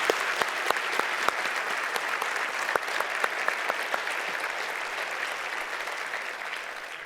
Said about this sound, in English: give a warm round of applause to our pastors and deacons